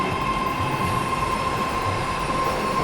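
A Patna metro train runs with a steady, loud rumble, a constant whine and wheel noise throughout, with no voices.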